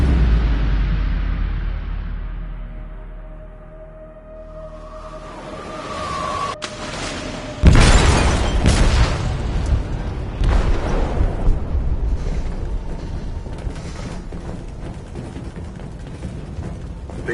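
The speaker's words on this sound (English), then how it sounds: "They detonated an explosive in the hold." An explosion goes off in a ship's hold in the game Detroit: Become Human, a sudden loud boom followed by a long rumbling, crashing roar, preceded by a low fading drone and a rising tone.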